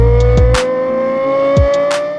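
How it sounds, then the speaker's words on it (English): Lexus LFA supercar, a loud engine note holding steady with rising harmonic tones, broken by two short sweeping bursts like quick gear changes or passes. "the Lexus LFA is a special car known for its glorious sound"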